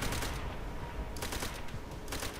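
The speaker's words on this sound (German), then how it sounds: "Maschinengewehr!" Sustained machine gun fire from the World War II shooter game Call of Duty: World at War, dense rapid bursts that continue throughout, loud and close with a few heavier cracks mixed in.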